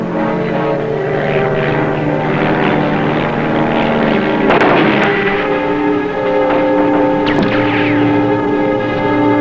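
Propeller aircraft drone loudly overhead with steady engine hum, giving covering fire over a beach in a wartime setting, with a couple of sharp bursts cutting through the roar.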